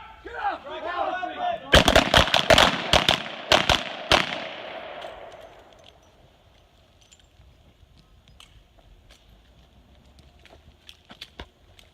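Revolver shots fired in quick succession during a shooting drill with reloads, loud sharp cracks clustered over a few seconds after a brief shouted command, then quieter clicks and handling noises of reloading.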